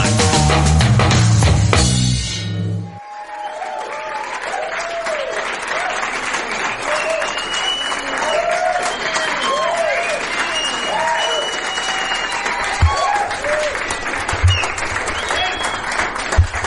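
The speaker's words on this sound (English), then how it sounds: "Well, applause for a manager" A studio audience bursts into sustained applause for a manager on a talk show, dense clapping with scattered cheers and whoops that fills the room after a brief spoken line at the start.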